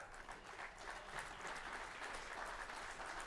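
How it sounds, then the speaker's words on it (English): Steady applause from the audience at a STIHL Timbersports Nordic Rookie Championship for rookie Zach Powell, a dense, even wash of clapping that holds at a distance without a break. "Zach Powell, please come up and take your applause."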